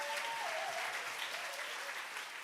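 A church congregation claps warmly and continuously during a Korean sermon, a dense, even wash of hands that stays fairly soft and distant, with a faint tonal sound drifting briefly above it.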